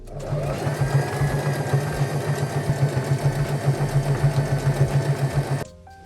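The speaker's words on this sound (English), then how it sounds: "I'm stitching all the way around using a 1/4 inch seam allowance" A sewing machine stitches fabric for a pants set at a quarter-inch seam allowance, giving a steady, rapid mechanical whir with even rhythmic thumping. It runs close and loud for about five seconds, then stops abruptly.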